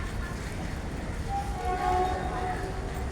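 A train at Durgapur railway station, a low rumbling under a brief tonal horn or whistle in the middle, with voices on the busy platform.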